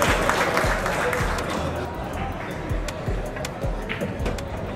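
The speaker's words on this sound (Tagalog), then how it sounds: "At bawat tira niya ay pumapalakpak ang Indonesian crowd." An Indonesian crowd applauds a billiards shot by Efren Reyes in a steady, dense wave of clapping that fills the hall, with a commentator talking over it.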